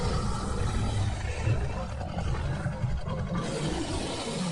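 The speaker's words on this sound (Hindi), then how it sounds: "मगर वहां गोली की आवाज के बजाय एक दहाड़ गूंजी।" A deep, menacing beast's roar used as a sound effect in a horror story, a continuous rumbling growl with heavy low end that fills the whole stretch, loud and close with no talking.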